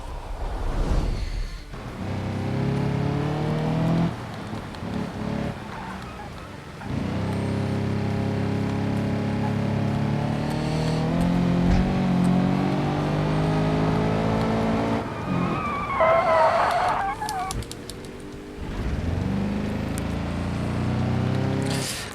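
A car engine in a racing video game revs hard and continuously, with rising and falling pitch, brief dips between gear changes and skidding tire squeals, loud and close with no talking.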